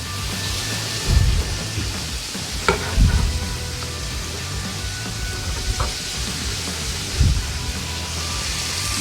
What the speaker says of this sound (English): about a half a stick of butter in there.